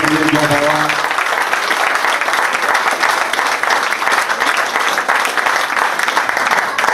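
Dense, sustained crowd applause fills the air at a village agricultural fair ceremony in Cuon, loud and continuous after a brief voice at the start.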